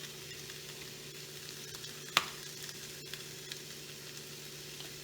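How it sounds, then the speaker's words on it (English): Chicken quarters seasoned with salt and heavy pepper sear in a hot pan, giving a steady, fairly quiet sizzle and crackle throughout with one sharp click or pop partway through and no talking. "I'm going to go ahead and let that sear a little bit"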